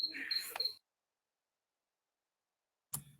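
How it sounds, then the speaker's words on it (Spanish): Bright, rapid high-pitched chirps of a cricket inside a house trill close by for under a second, then silence, then a brief faint rustle at the end. "el grillo está acá dentro de mi casa"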